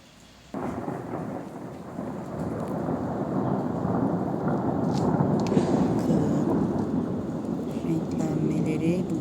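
Thunder rumbles over steady rain falling on succulent plants outdoors, a continuous loud wash of rain with deep rolling thunder building beneath it.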